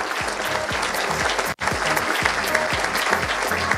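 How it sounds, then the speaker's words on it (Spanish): Audience applause at the Premio Jefe BA 2022 awards event, a dense, sustained roar of many hands clapping at close range that fills the clip with a single brief dropout midway. "un fuerte aplauso para ellos"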